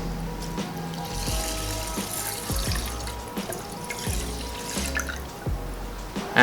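Water poured over rice in a pot for Korean stovetop steamed rice, a steady close splashing and trickling stream running throughout with a slight surge at the end.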